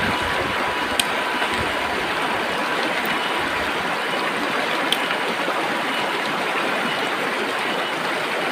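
A river stream flows steadily with broadband rushing water, constant and fairly close, with a couple of faint clicks and no voices.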